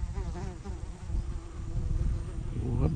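Bees buzzing steadily and close on a riverbank during a fishing trip, a continuous droning hum that persists throughout, with no talk.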